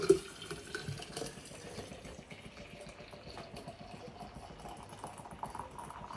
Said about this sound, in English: and then I just fill my thermos up